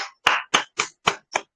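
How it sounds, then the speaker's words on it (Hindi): Clapping at a motivational talk comes as six sharp, separate claps in a quick, even rhythm, close and loud against silence between them. "जोरदार ताली होना चाहिए।"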